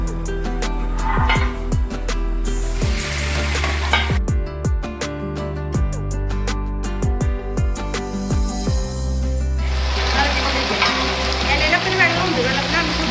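Wet curry leaves dropped into hot oil for lemon pickle sizzle loudly, with stirring scrapes and a burst of heavier crackling spatter near the end.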